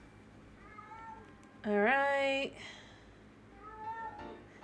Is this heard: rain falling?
no